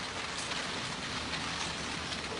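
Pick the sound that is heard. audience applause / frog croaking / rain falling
rain falling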